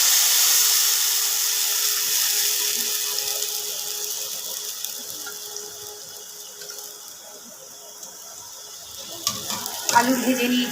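Rohu fish pieces in spiced batter of tomato sauce, chili paste, turmeric, salt and yogurt frying in hot oil, a steady close sizzle that thins midway, with a few clinks near the end.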